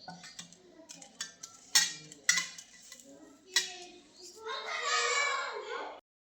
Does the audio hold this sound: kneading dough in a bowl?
yes